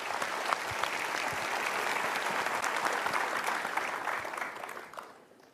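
Studio audience applause during a televised motivational talk show, dense sustained clapping from a large crowd throughout, tapering off at the end.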